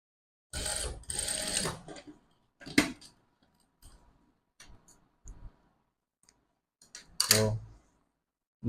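A sewing machine stitches a kaftan sleeve into the armhole in short close mechanical bursts of whirring and clicking, separated by quiet pauses, with no voices.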